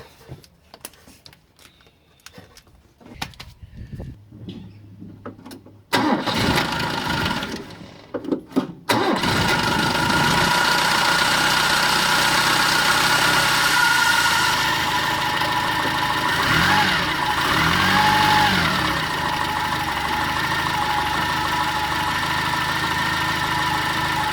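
A Mitsubishi GH Sigma engine cranks and catches after a few quiet seconds, then settles into a steady, loud close idle with a light timing-chain clatter running through it.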